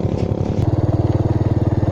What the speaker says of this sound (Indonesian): Selamat lagi tes motor lama Honda Astrea Grand Legenda di jalan arah wisata